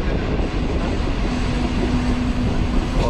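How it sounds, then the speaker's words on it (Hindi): Green Line passenger train passing Chichawatni railway station at slow speed, a steady continuous rumble of rolling stock with a faint sustained tone, heard close and alone without talk. "हमारी चिचा वतनी रेलवे स्टेशन पे स्लो स्पीड से पास हो रही है"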